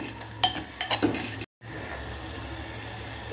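Green chillies fry in a pot with garlic, a steady low sizzle under a few quick spoon stirs and clinks, then a brief dropout before the frying hiss carries on evenly.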